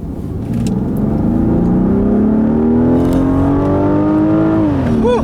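A 2014 Rolls-Royce Wraith with a 6.6-liter twin-turbo V12 pulls hard up a back road, its engine note climbing steadily in pitch for several seconds before easing off, loud and smooth with no talking.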